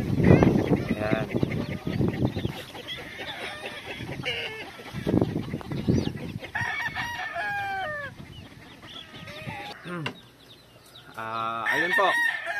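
A Blue Face Hatch gamefowl rooster from Circle L Game Farm crows repeatedly up close, its strained calls mixed with clucks and honking fowl from a busy yard, while someone speaks intermittently.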